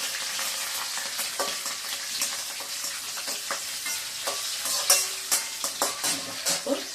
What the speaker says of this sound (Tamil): பச்சை மிளகா கொஞ்சம் மேலே விழாமல் ஒரு பிளேட்டு இப்படி வச்சுக்கோங்க இல்லைன்னா பட்டு பட்டுன்னு வடிக்கும்